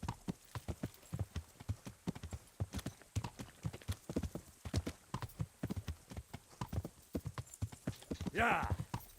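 Horse hooves clip-clopping in the video game Kingdom Come: Deliverance, a steady trotting rhythm of close, distinct hoof strikes with a brief whinny near the end.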